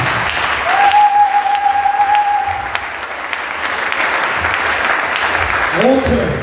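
A church congregation clapping loudly during a sermon, dense sustained applause across the whole span, briefly overlaid by a held sung or shouted tone near the start and a voice speaking at the end.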